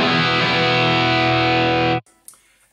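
An electric guitar through a Line 6 Helix modelling a Marshall JCM 800 amp plays a loud, heavily distorted sustained chord for about two seconds before it is abruptly cut off into near silence.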